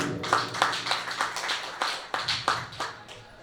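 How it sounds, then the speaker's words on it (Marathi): Audience clapping at a Marathi publishing group's centenary celebration, a run of distinct, fairly close hand claps in an uneven rhythm, growing into scattered applause with no talking. "त्यांचा जोरदार टाळी वाजवा"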